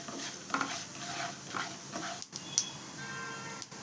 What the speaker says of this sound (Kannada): ಕಡಲೆಬೇಳೆ 1 ಸ್ಪೂನ್ ಅಷ್ಟು ಚೆನ್ನಾಗಿ ಹುರ್ಕೊಳ್ಳೋಣ. ಅದು ಗೋಲ್ಡನ್ ಬ್ರೌನ್ ಆಗುತ್ತೆ